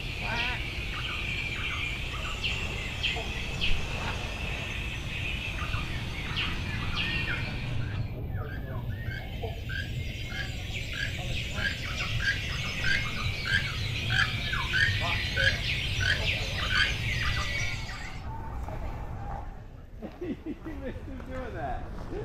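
Birds call and squawk at Harvest Caye, Belize, in a rapid run of repeated chirps. A person talks over the birds at first.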